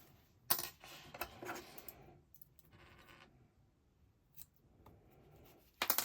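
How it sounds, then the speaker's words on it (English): Scissors snip through a strand of yarn while finishing a crocheted pumpkin, giving a few crisp, close cuts with quiet handling between them and a louder snip at the end. "I'm just going to hide that piece of yarn back through there and cut it off."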